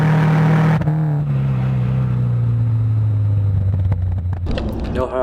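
A Mazda RX-7 race car overtakes a black BMW M3 on a racetrack, heard from inside a Subaru Legacy wagon as a loud, steady engine drone that slowly drops in pitch, with a brief burst of revving near the end.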